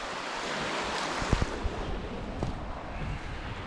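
Swollen Anapodaris river in flood at the Garipa–Kastelliana bridge in Crete, a steady loud broadband roar of rushing water with a few brief knocks and splashes throughout.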